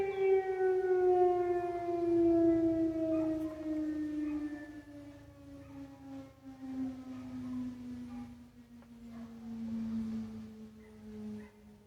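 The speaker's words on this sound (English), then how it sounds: "all the dogs in the neighborhood are howling because of the siren" A distant noon civil defense siren winds slowly down while neighborhood dogs howl along, their wavering cries rising and falling beneath the siren's tone.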